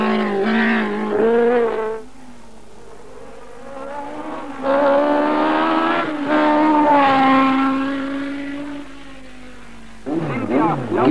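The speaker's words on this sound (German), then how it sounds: "Karl Jordan aus Hüfingen mit dem March 802 BMW" A March 802 BMW Formula 2 race car at the 1984 Wallberg hill climb, its engine screaming through rising gear changes as it passes, then fading, with a commentator speaking in between.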